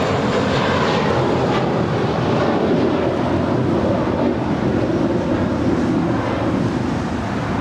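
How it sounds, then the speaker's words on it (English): A JetBlue Airbus A321 airliner departs LAX from runway 25 left. Its steady, loud engine roar carries broadband rush and wind buffeting throughout, with no voices. "That was an A321."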